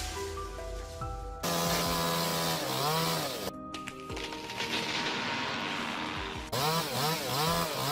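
A chainsaw cuts into a tree, its engine whining loudly and steadily with pitch swings as the chain bites and revs, pausing briefly before resuming at high volume, with no voices.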